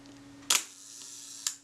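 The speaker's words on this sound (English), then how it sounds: "I'm certainly not hearing the film advance release earlier than the shutter firing" A Reflex III camera under repair fires its shutter with a sharp mechanical clack, then the film advance releases about a second later with a second, lighter snap, both close and isolated against a quiet hum.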